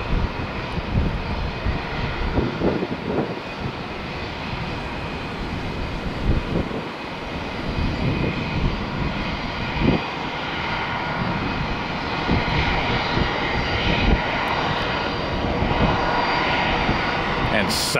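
Aircraft engines at Tampa airport roar steadily as a broad, continuous hum and whine, with voices talking over the engine noise throughout.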